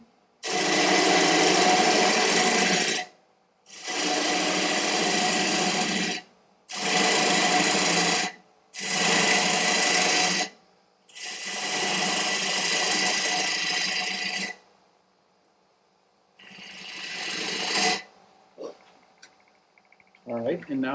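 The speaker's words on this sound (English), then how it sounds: "Instead, I'm going to use a push cut into the headstock." A woodturning lathe push cut into an ebony mulberry wood bowl gives loud, close whirring tool bursts, five long passes with short silent gaps, then a shorter pass and a few scattered knocks.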